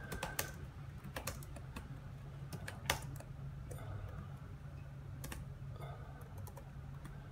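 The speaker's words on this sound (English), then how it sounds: "open your frequent text editor, type whatever you like" Keys clatter on a computer keyboard while someone types in a text editor: quiet, uneven keystrokes with a few sharper taps, close by against a low steady hum, and no voices.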